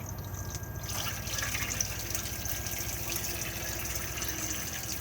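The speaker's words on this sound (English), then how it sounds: "So if I now run the hot tap" Hot water runs from the tap inside an Elddis Majestic 125 caravan, a soft, steady, continuous flow heard close by, with no voices.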